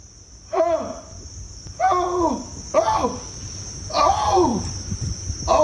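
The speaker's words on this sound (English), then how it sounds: "So why does this bird sound like a dinosaur?" Four drawn-out, descending croaking calls from a bird, harsh and reptilian, spaced about a second apart over a constant high insect whine.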